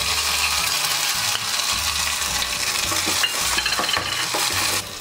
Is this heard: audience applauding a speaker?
no